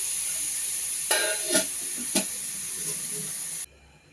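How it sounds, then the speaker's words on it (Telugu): Oil heating in a hot non-stick pan gives a steady bright hiss, broken by a few sharper spits and crackles before cutting off abruptly near the end. "నాన్ స్టిక్ బాగా వేడిచ్చిందండి అంతేత నూనె పోసేసినాను నేను"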